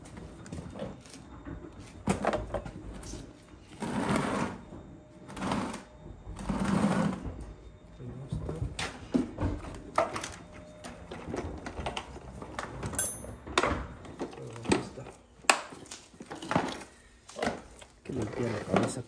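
A wire brush scrubs a part from a Carlin oil burner during annual maintenance, making close, rapid, scratchy strokes in uneven bursts, with people talking over and between them.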